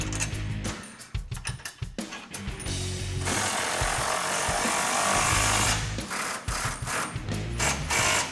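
Nylon nuts driven onto grill guard bolts, opening with rapid ratchet clicks, then a loud sustained power-tool whir lasting several seconds before more ratcheting, close and loud.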